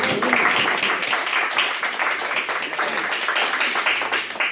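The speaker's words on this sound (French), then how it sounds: "vous pouvez l'applaudir" At a Christmas lunch for elders and local officials, the audience gives a short round of applause, a dense patter of clapping that stays steady for a few seconds before tapering off.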